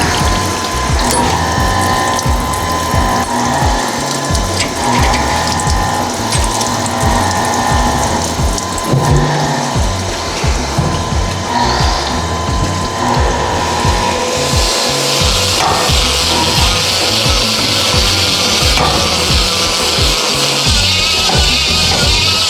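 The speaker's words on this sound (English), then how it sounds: "I'm going to show you a little honing sequence here" A hone works the cylinder bores of a Volvo B230 redblock engine block with a continuous loud grinding, scraping rasp that holds steady throughout, with no talk.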